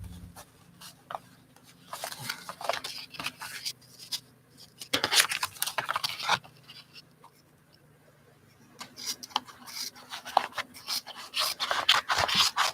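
Scissors cutting out paper piecing pattern pieces, intermittent snips and paper rustling at close range, with a quiet stretch in the middle.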